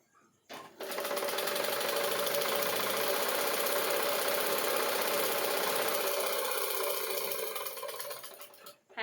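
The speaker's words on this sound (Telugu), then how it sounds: "చూడండి షేప్ పట్టీలు కుడుతున్నాను. ఒకటి అయిపోయింది, రెండోది కుడుతున్నాను." A sewing machine stitches shape strips for a size 32 blouse in a steady, close, rapid whirring run of about eight seconds that starts and stops abruptly, with no talk.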